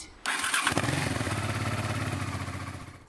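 A diesel air heater fitted in an Opel Vivaro van starts up with a sudden onset, then settles into a steady loud mechanical whir and pulsing hum that fades slightly toward the end.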